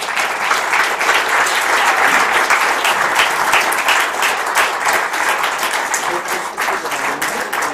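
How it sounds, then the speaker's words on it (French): Sustained audience applause fills a lecture hall after a French public talk on a former astronomical observatory tower, many hands clapping densely and loudly throughout, with faint voices mixed beneath. "C'est eux aussi qu'il faut applaudir parce qu'ils étaient tous là."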